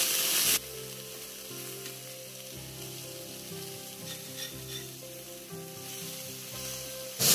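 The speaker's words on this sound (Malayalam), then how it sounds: "ചെറുതായിട്ടൊന്ന് ഫ്രൈ ആയാൽ മതി, ഒരു 1/2 ഫ്രൈ ആയാൽ മതി." Netholi anchovies fry on a flat tawa, a dense continuous sizzle with crackling spatter, close and steady, swelling louder at the start and end as the fish is stirred or turned.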